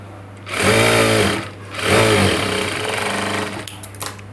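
Sewing machine stitching a blouse: two loud, steady motor-driven runs of rapid needle chatter, each about a second long with a short pause between, followed by quieter clicks and handling of the fabric.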